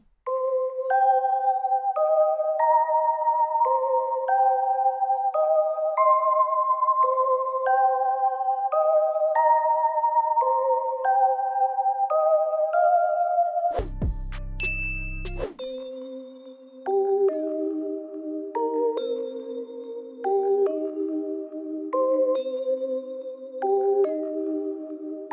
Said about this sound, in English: I use this Nexus bell with these effects: halftime, EQ, RC20,